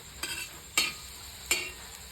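Sweet potato slices cooking in a pan on a gas stove for a sweet Marathi dish: three sharp spatula taps come at spaced intervals over a faint, quiet sizzle, with no voices.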